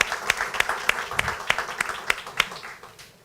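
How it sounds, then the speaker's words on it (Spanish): An audience at a corporate innovation week event for AFP Crecer claps in a steady, even rhythm of sharp beats that carries on for a few seconds. "Un aplauso para ustedes."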